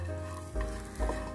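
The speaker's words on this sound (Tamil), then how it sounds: "நான் அடுத்தது இந்த கோகோனட் வந்து ட்ரை ரோஸ்ட் பண்ணிக்கிறேன்" Coconut dry roasting in a pan gives a soft sizzle and two brief stirring scrapes, close and steady, with no talking.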